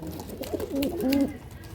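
Pigeons of a prized breed kept for sale cooing close by, a short run of soft, throaty warbling calls that rise and fall, clear and alone.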